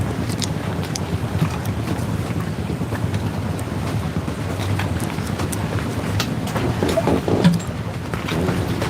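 A boat with a big loud diesel engine runs steadily, a constant low rumble beneath heavy wind buffeting the microphone and splashing water, sustained throughout at close range without speech.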